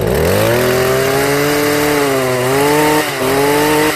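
A STIHL tiller's small gasoline engine runs steadily after a few pull starts with the choke moved off, a loud continuous close-up drone with a slight dip in pitch near the end and no voices.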